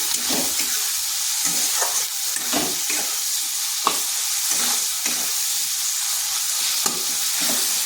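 Shredded cabbage with tomato and salt frying in a pan, a continuous hiss of sizzling with rhythmic scraping strokes of a spatula every half second or so, close and steady, no talk.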